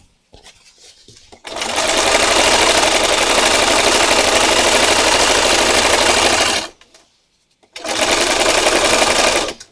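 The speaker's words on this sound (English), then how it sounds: "So I'm just going to stitch down the edge." A sewing machine stitches down the edge of a project in two long, loud, steady bursts of rapid stitching with a brief stop between them; no one speaks.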